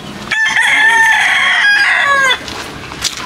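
A rooster crows once, loud and close, a long drawn-out call with faint farmyard noise around it.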